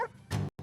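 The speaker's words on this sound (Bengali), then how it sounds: "কুকুরটা আবার ঘেউ ঘেউ করছে কেন?" A couple of short, sharp dog barks close by at night, separated by a brief silence.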